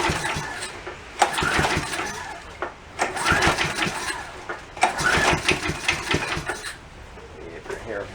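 A junk go-kart's small engine sputters to life and revs in three rising bursts, loud and close, each surge fading back between pulls.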